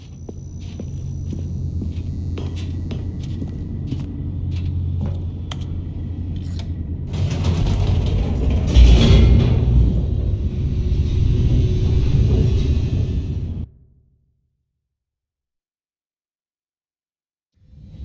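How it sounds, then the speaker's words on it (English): An elevator in the video game The Stanley Parable descends with a low mechanical rumble and creaks that swell into a louder grinding roar, then cut off abruptly into silence before a faint return at the end. "The elevator raced downward, plummeting towards an unknown fate."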